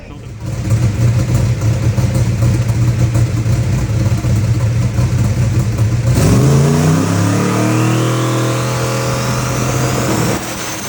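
A No Prep Kings drag race car engine runs hard on a dyno, holding a loud, steady roar before the pitch sweeps sharply upward as it revs, then settling back, close and dominant throughout.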